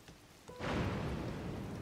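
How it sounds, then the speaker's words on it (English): Rain starts falling in Zelda: Tears of the Kingdom, a soft steady hiss that swells in about half a second after a quiet start and then holds at an even level, with no voices. "Oh, it's raining!"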